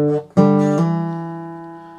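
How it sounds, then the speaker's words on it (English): A guitar's fifth and fourth strings sounded together, a short muted pluck followed by a clear two-note chord that rings out and slowly decays, close and alone. "the fifth and the fourth together."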